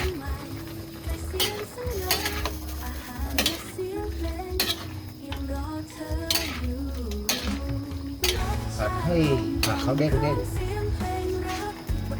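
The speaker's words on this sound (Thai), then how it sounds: "หลังจากนั้นเราก็จะทำการกดไปกดมาทั่วกันนะครับ เพื่อให้สุก แบบไม่ต้องสุกมาก" Food is pressed and stirred around a pan as it cooks, with repeated metallic scraping and clinking of a utensil on the pan, under someone speaking Thai and music playing in the background.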